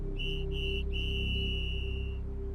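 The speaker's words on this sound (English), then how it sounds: "3 angry whistle blasts split the air." Three sharp, angry whistle blasts ring out alone in a wooded outdoor spot, two short blows followed by one long sustained blast, loud and close with no talking.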